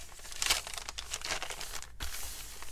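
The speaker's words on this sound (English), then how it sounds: "I love dyeing composition paper. It's like thinner than normal paper, I think, and it just gives a really cool sound." Thin, dyed composition notebook paper crinkles and rustles close up as a handmade journal's pages are handled, a continuous papery crackle with a few sharper crisp peaks.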